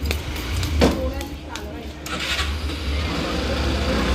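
A newly bought vehicle's engine cranks and catches, then runs at a low idle nearby, partly buried under loud, excited voices talking over it.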